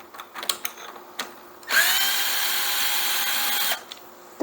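Power drill backing a screw out of a lawn mower's base cover, a steady whine for about two seconds after a few faint clicks and handling knocks, close and fairly quiet.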